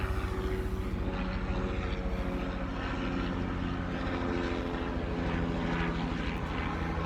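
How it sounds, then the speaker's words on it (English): A helicopter passes overhead outdoors, its steady rotor and engine drone filling the whole stretch at an even, fairly close level with no talking. "a helicopter flies through, and suddenly you gotta pause"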